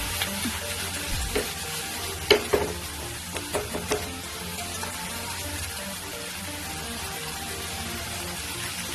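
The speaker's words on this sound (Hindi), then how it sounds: "और 8 से 10 मिनट इनको फ्राई कर लेंगे।" Cashews and melon seeds fry in a pan, a steady close sizzle with a few sharp stirring clinks and scrapes spread through it, no voices.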